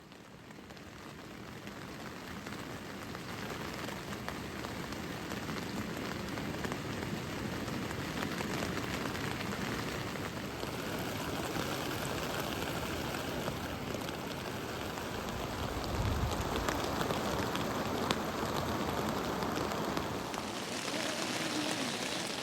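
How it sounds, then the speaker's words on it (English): Heavy rain drums steadily on a tent in the Lost Valley of Glencoe during stormy weather, a dense, close, continuous patter that swells slightly louder toward the end. "Proper heavy rain, and it's actually starting to pull up right outside the tent."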